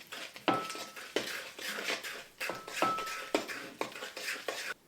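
A spoon scrapes and knocks around a bowl of mashed bananas for banana bread batter in quick, rhythmic strokes, each pass a soft clatter against the bowl, close and fairly quiet.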